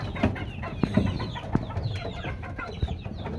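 Desi chickens cluck in a cage on a farm, giving a steady chatter of overlapping clucks and short calls with a few sharper squawks, close and moderately loud.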